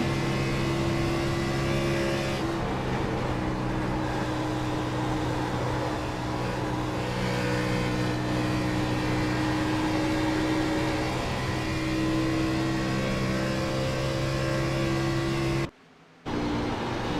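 Race car engines at Las Vegas Motor Speedway, with the Ford 77 leading, making a steady, loud mechanical drone with sustained tones and a brief dropout near the end.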